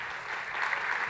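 An audience at a conference welcome and keynote claps steadily, a dense wash of applause filling the room for the whole moment without any voices over it.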